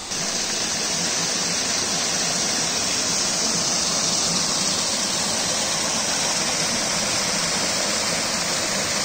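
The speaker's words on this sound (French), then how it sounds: "J'ai bien l'impression que c'est la cascade des Anglais." Cascade des Anglais waterfall on the GR20 trail in Corsica, a steady, loud, close roar of rushing, splashing water that holds unbroken and alone throughout.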